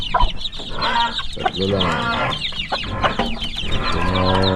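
Several chickens cluck and squawk close by in a busy, continuous chorus, with a brief spoken remark near the start.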